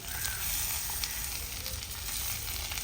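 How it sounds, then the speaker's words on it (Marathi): Tomatoes frying with softened onions in oil for a butter chole paneer gravy, a faint, even sizzle with light hissing throughout, low in level. "आता आपण त्यामध्ये हे टोमॅटो घालूया"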